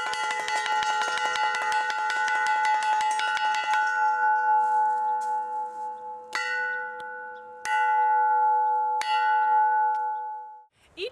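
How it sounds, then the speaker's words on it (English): A bell rings rapidly and repeatedly, then a few slower, separate strikes follow, each ringing out clearly and decaying. "Each day in camp begins with the ringing of the bell that you just heard."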